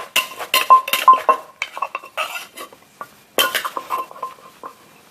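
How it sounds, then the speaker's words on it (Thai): Noodles pounded in a mortar for a spicy Thai salad, sharp knocking and clinking strikes coming in quick irregular bursts with short pauses, close and fairly loud, no talking. "เราก็จะตำไปเรื่อยๆนะคะ จนกว่า เส้นเขายุบๆหน่อย"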